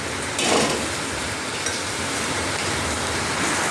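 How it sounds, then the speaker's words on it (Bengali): Heavy rain pours in a steady, dense hiss heard from a kitchen while tomatoes cook for a tawa-fried bhola fish dish, with a brief louder splash near the start and no voices. "এই দেখো কি জোরে বৃষ্টি হচ্ছে"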